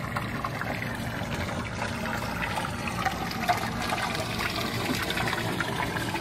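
Water flowing steadily through the spigot and trough of an oyster upweller, a continuous close trickling and splashing wash with no pauses.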